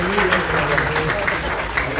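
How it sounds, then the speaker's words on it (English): Crowd applause fills a hall at a stand-up comedy event, sustained clapping for the state party chairman that runs steadily throughout, with voices mixed in underneath. "Help me clap for the state party chairman"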